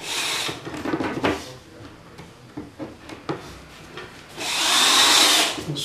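A power drill drives screws to fix a rack into place, giving two loud whirring bursts with quieter clicks and handling noises between them.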